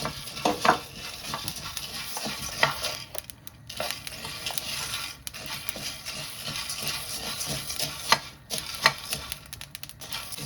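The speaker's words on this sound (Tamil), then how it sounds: "இப்போ நாங்கள் இதுக்குள்ள சின்ன சீரகம் போட போகிறோம்" Cumin seeds crackle and sizzle in hot oil, with scraping and stirring against the pan; uneven popping bursts, close and fairly quiet.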